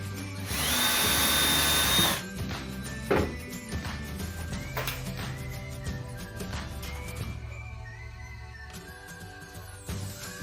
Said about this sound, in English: We're going to drill some holes into the side and then we're going to put some screws in there.